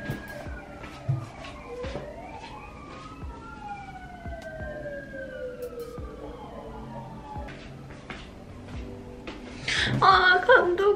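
An ambulance siren wails through city traffic, its sweeping tones gliding up and down at moderate distance for several seconds, with louder street noise rising near the end.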